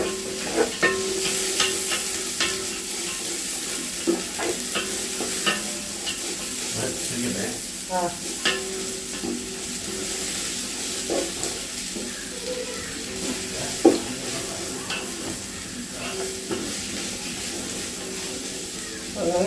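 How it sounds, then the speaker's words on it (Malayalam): Chopped onions sautéing in hot oil in a pan, a steady close sizzle broken by frequent clicks and scrapes of a stirring spoon, with a voice talking at times. "എണ്ണ ചൂടായി, ഞാൻ ഉള്ളി അരിഞ്ഞിട്ടെടുത്തിട്ടുണ്ട്. നല്ലോണം ഒന്ന് വഴറ്റി കിട്ടട്ടെ."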